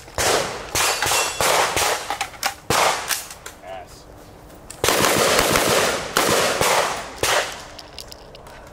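Rifle gunfire at a shooting range: loud, close, rapid bursts of sharp cracks in quick irregular strings with brief pauses between, echoing and clanging, no talk.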